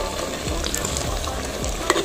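Tomato puree being stirred into a sauce in a pan, with soft scraping strokes of a utensil against the pan over a low steady sizzle, a few distinct stirring sweeps spaced across the moment.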